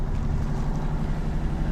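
A sailboat motoring under engine power at about five knots, a steady low droning engine and hull rumble with wind noise, continuous and fairly close, no talk.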